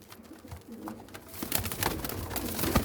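Teddy cross pigeons coo in a loft in Faisalabad, low soft calls that start quietly and grow busier, joined by rustling and flutter-like noise toward the end.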